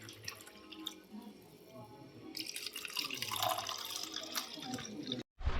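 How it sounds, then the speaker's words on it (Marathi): Homemade sherbet drink poured into a glass, a close splashing and trickling stream that grows fuller as the glass fills, ending with a brief pause and a final splash. "मस्तपैकी आई एक ग्लास भरून घेते."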